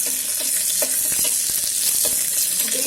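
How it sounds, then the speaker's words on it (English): Soyabean chilli with onion and capsicum fries inside an electric kettle, a steady loud sizzle with scattered crackles and a few soft stirring scrapes, close by and with no voices. "Okay, so fry this for around 2 minutes."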